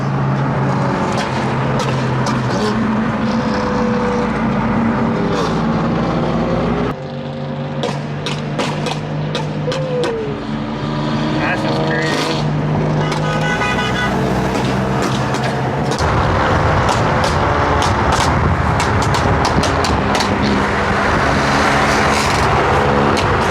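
Straight-piped BMW M4 exhaust, loud, raspy revving and burbling close by among other cars in a street or car meet setting, with pitch rising and falling across several passes.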